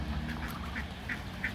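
Ducks in a farmyard flock quacking in several short, separate calls over a low background rumble, close and clear, with no talk.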